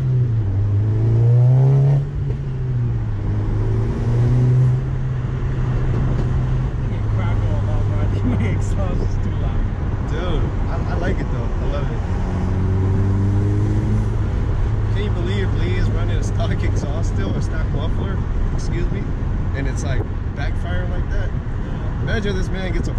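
A stage 2 VW Golf R fitted with a Forge diverter valve revs repeatedly, its engine note rising and falling in loud, close pulls over a steady idle, with faint talk in the background.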